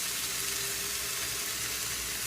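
Steady, close sizzling and crackling of three sausages frying in a pan, a continuous hiss with no voices.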